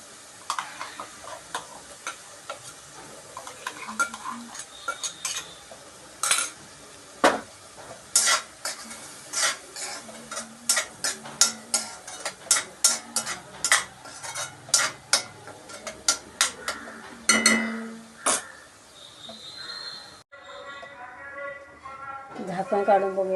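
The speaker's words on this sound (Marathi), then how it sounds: "त्याला चांगलं तेल सुटेपर्यंत परतून घेऊयात आपण." Kadve val usal, a bitter field bean dish, sautés in oil in a pan: a spatula scrapes and clicks against the pan in irregular strokes over a soft sizzle, close and fairly clear, with the stirring briefly pausing near the end.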